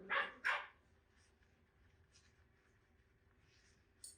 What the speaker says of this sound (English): Letting the puppies have playtime right now.